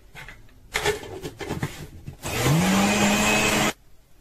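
An electric blender whirring as it mixes milk for a fried chicken marinade, short bursts first and then one loud sustained run with the motor's pitch rising before it cuts off.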